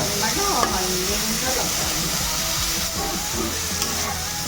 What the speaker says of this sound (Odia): ଏବେ ଏଇଟା ପୁରା ଭାଜିଦେବେ